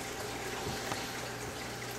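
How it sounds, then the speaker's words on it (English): Water pours steadily into the inner tank of a container, a continuous even rush that fills the whole moment with no voices. "I got this inner tank filled to the top of the inner box"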